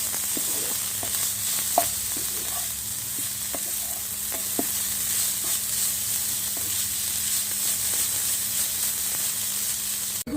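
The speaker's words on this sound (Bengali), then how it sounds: "আলুটাকে কিছুক্ষণ ভেজে নিয়েছি" Potatoes mixed with spices fry in a pan with a constant, close sizzling hiss, punctuated by occasional soft spatula taps and scrapes at irregular intervals.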